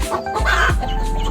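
A hen gives a short, close run of clucks, loud and alone.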